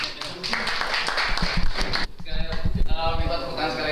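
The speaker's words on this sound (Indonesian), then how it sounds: "Minta tepuk tangan sekali lagi untuk Rana" Sharp, close hand clapping from a small audience at a scientific forum comes in quick irregular bursts, briefly dipping before resuming with a voice talking through it.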